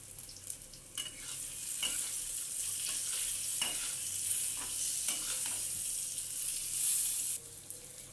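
Fried brinjal sizzles in hot oil as turmeric and salt are added and stirred, a steady crackling hiss with scraping stirs, fairly quiet and with no talking.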